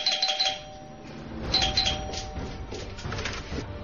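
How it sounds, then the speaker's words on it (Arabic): A doorbell rings at a house door, giving a bright electronic chime at the start and a second ding-dong burst a moment later, clear and close against a low background. "غير بعيد توقف عند باب منزل، قرع الجرس"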